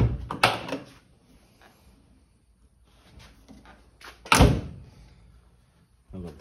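Door of an old Fiat 1200 car opening and shutting, with two loud close metallic thunks separated by a few seconds of near quiet.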